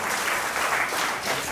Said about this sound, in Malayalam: എന്തൊരു കൈയടി കൊടുക്കുക.